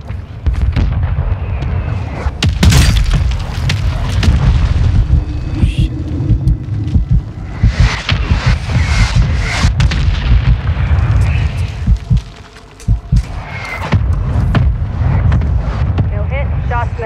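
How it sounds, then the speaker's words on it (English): Incoming mortar strike in Call of Duty Warzone, with loud, rumbling explosions and blasts booming repeatedly close by for the whole stretch, alongside game gunfire, with brief voice callouts mixed in. "Mortar strike inbound."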